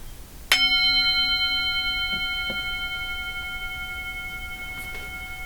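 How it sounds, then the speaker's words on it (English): A single bell is struck once, its clear ringing tone sustained and slowly fading, with a couple of faint knocks afterward. "I'm going to ring the bell"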